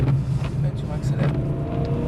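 A BMW M3 E92 accelerates on a race track, its engine giving a steady, loud low drone with a continuous rumble throughout, while people talk over it.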